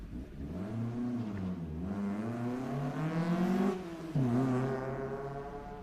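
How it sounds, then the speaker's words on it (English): Silver car at an autocross event near the finish line, a single engine revving hard with rising and falling pitch as it accelerates, shifts and passes close by, heard alone without talk. "the silver car that just came across the line"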